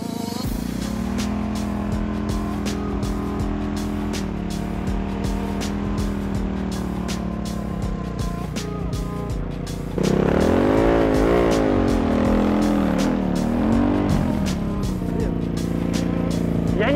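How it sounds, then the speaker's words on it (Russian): A car does a burnout from a standstill during a drift and stunt session, engine droning at steady revs, then surging louder with squealing tires in the second half, close and continuous. "мне просто для начала чуть-чуть на бернауте его сделать, поймать"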